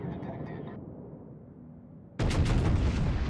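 Warship guns fire in World of Warships with an abrupt, loud booming salvo that cuts in after quieter ocean ambience and some talking, then keeps roaring to the end.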